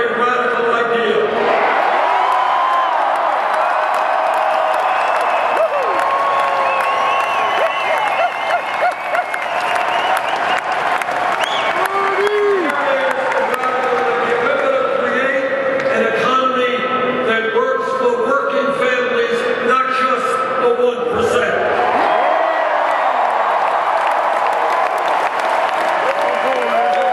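Boisterous rally crowd at the Denver Colorado Convention Center applauds and cheers for a politician, a continuous loud wash of clapping and shouts rising and falling while someone speaks over it.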